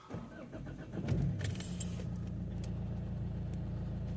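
A diesel Opel Vectra C with the Z19DTH engine cranks briefly after keys jangle at the ignition, then catches and settles into a steady, close idle rumble.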